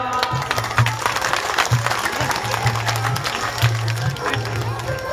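An audience at a Shiva Mahapuran katha in Rajasthan breaks into dense, steady applause, loud and continuous, with a low droning musical note pulsing underneath and voices faintly mixed in.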